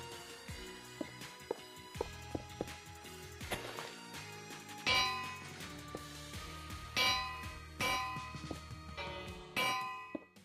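Metallic bell strikes from a Minecraft video game, a series of bright clanging dings recurring every second or two, each ringing out with a shimmering decay, fairly close and clear with no talk over them.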